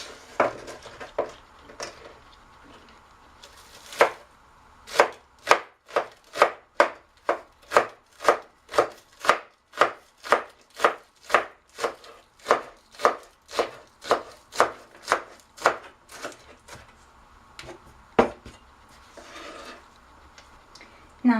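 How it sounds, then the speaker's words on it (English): A knife chops green onions on a cutting board for coleslaw, a long run of crisp, evenly spaced knocks at a steady brisk rhythm, close and clear with little else around. "Now we cut onion, green onions."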